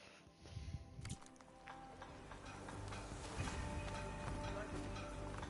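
A horse-like machine walks in Horizon Forbidden West, its rhythmic clopping, ticking metallic steps repeating over game ambience, with a voice talking faintly underneath.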